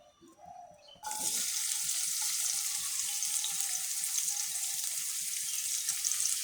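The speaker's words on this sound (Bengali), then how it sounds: "রসুন আর পেঁয়াজ কুচিটা আমি ভেজে নিচ্ছি।" Chopped garlic and onion hit hot oil after about a second and sizzle steadily and loudly to the end of the clip, with faint bird calls in the quiet moment before.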